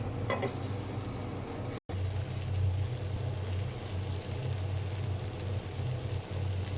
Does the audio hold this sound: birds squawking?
no